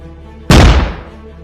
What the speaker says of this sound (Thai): เสียงปืนแก๊ปดังสนั่น